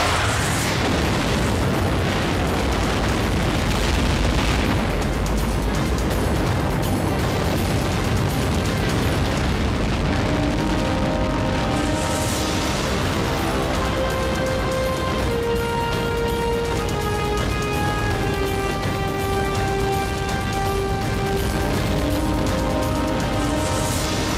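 A massive, continuous roar of Saturn V rocket engines at full thrust after launch ignition, dense and rumbling throughout with crackling texture and shifting tonal whines, no voices.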